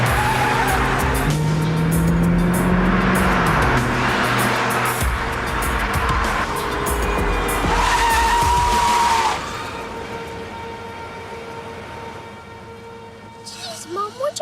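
A car is driven fast through evasive manoeuvres, its engine roaring as tires squeal and skid under a wailing, siren-like tone, with voices mixed in; the roar drops away abruptly near the end.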